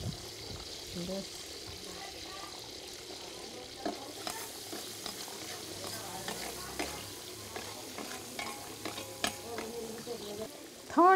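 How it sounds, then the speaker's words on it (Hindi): Hot oil sizzles and crackles steadily as a tadka of garlic and green chilli is stirred in a pot for dal at a Warli Adivasi wedding feast in Maharashtra, with faint voices in the background. "अभी इसमें तड़का लगाएंगे आप?"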